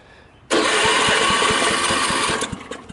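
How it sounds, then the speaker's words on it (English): A Husky 600 engine is started with throttle and no choke, bursting into a loud, close, steady running roar that carries on without any voices. "Just choke it for a second and it'll start up."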